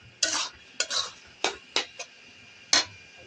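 A spatula scrapes and stirs thick curry gravy for egg curry in a pan, several distinct scraping strokes at irregular intervals, close and fairly clear over a faint background hiss.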